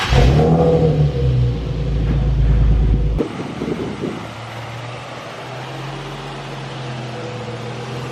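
A Nissan 350Z with a carbon fiber hood pulls out, its engine droning loud and close with wind buffeting the microphone, then dropping to a lower steady hum as it moves away; a voice briefly exclaims.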